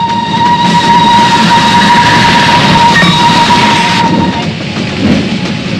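A loud train rumbles past close by, with a steady mechanical roar and a sustained tonal whine, no voices.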